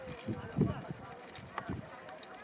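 Hooves clip-clop in quick uneven beats as a horse runs in a village horse-and-bullock cart race at a temple fair near Yeola, Nashik, heard under a loud announcer's commentary.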